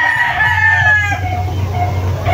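A broodcock rooster at a gamefowl farm, a golden boy sweater bloodline, crows once loudly and close, the call falling off into clucking over a low steady hum.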